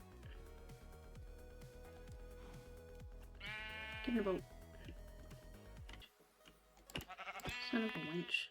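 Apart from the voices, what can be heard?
sheep bleating in Minecraft video game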